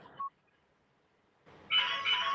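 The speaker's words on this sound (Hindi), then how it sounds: "आपका फोन बज रहा है" A phone rings in short bursts, a brief chirp followed by a pause and then a louder electronic ringtone, heard close and alone in an indoor setting.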